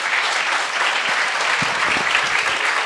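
An audience at a political rally at a Democratic party festival in Turin applauds in a dense, sustained, even wash of clapping that fills the whole stretch.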